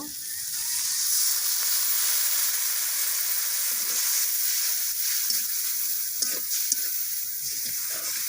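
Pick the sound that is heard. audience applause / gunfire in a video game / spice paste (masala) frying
spice paste (masala) frying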